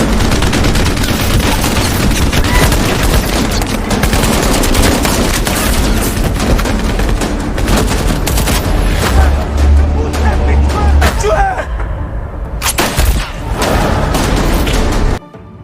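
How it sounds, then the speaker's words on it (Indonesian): Gunfight from the Russian action film The Balkan Line: dense rapid gunfire and heavy booms crash continuously, with voices mixed in under the shooting before it briefly drops away near the end. "Dan saat itu juga baku tembak pun terjadi di antara mereka."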